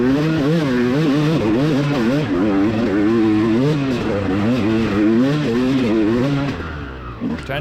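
A two-stroke dirt bike engine in a cross-country race revs hard and continuously up a small hill, its pitch wavering as the throttle works, loud and close before easing off at the end.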